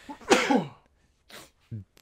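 A single sharp sneeze bursts out close by. After a short pause, a couple of brief voice sounds follow.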